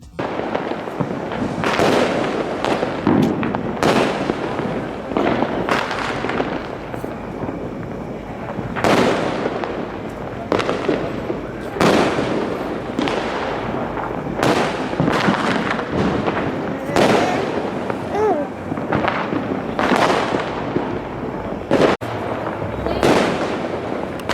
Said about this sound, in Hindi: सभी ने मिलकर जमकर आतिशबाजी की।